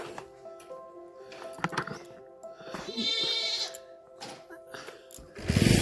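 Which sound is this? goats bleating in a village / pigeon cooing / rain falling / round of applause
goats bleating in a village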